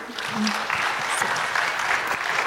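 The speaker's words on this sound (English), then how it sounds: "A round of applause again for my team." A short burst of audience applause for a team after a talk, dense clapping from a crowd that swells quickly and holds steady for a couple of seconds.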